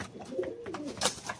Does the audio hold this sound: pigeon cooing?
yes